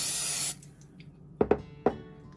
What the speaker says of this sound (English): So I'm using a butter flavor cooking spray.